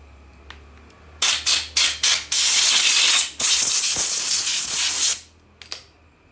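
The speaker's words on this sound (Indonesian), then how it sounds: "Kita semprot, kita lap." A spray can hisses onto a Toyota Soluna air-conditioning compressor part during repair, in several short bursts followed by one long continuous spray, loud and close, with no talking.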